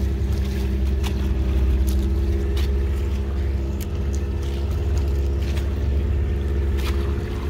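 Steady low engine rumble and water rush from a boat out on the open sea off Bali, with waves slapping the hull throughout and faint wind, continuous and fairly loud with no talk.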